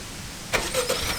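A Honda Civic Turbo started by remote catches quickly, a brief crank followed by a soft, faint idle heard from some distance.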